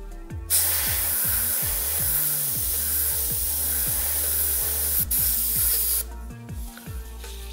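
Airbrush spraying paint onto dice: a steady, close hiss of compressed air in one long burst with a brief interruption, with a low motor-like hum underneath, then a short final spurt.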